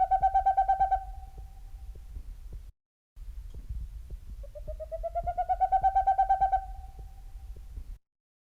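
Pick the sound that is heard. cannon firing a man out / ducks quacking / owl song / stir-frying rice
owl song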